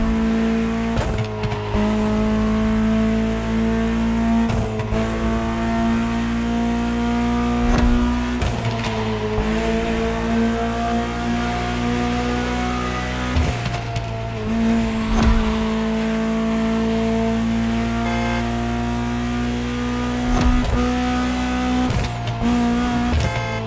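A Ferrari supercar engine from The Crew Motorfest roars loud and close, its tone climbing steadily through each gear before sharp drops at several shifts, repeating across the run.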